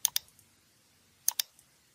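Computer mouse clicking OK in a software dialog box, two quick pairs of sharp, close clicks with near silence between them.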